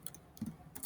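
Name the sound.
typing on a computer keyboard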